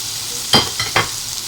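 Garlic hitting hot oil in a pan, a steady bright sizzle with a few sharp spatters and stirring scrapes, close and fairly loud, no voices.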